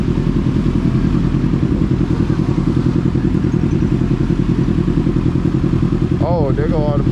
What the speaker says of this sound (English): there go all the bikes right there